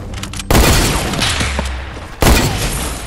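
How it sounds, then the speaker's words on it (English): Loud, close gunfire from a double-barrelled hunting rifle in Fortnite, with two heavy blasts that ring out over continuous game noise and reverberation. "The old double hunting rifle."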